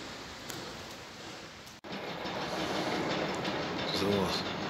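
S-Bahn train running on newly opened tracks at Marienfelde in Berlin, a steady broadband rumble of wheels and rail with faint clatter and a brief squeal near the end, heard from trackside with no talk.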